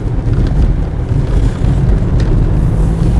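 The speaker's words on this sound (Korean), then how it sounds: "차 자체가 기본적으로 백그라운드 노이즈가 좀 있는 것 같아요." Steady low road rumble and background noise inside a Volvo S60 sedan cabin while driving, a constant muffled drone with no engine note standing out.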